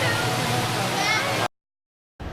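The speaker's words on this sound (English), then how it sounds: "I've never seen an underground waterfall before." Underground waterfall at Ruby Falls cave in Tennessee, a loud steady rushing roar that cuts off abruptly to silence partway through, then briefly resumes.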